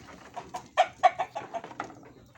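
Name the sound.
native country chickens clucking at a farm shed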